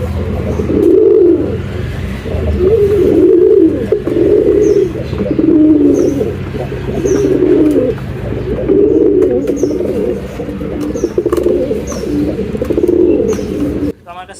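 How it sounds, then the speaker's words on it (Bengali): Domestic pigeons coo in repeated soft, throaty phrases close by, each lasting about a second with short pauses between, over a quiet background with a few faint chirps. "তো আমার কাছে কবুতরের এই ডাকগুলো এত ভালো লাগে, এটা বলে বোঝাতে পারবো না।"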